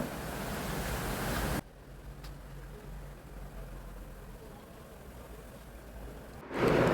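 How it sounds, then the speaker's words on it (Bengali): Strong seaside wind roars in gusty, broadband blasts with a surf-like rush, loudest at the start and end with a calmer, lower stretch between. "কি হাওয়া দিচ্ছে দেখেছো?"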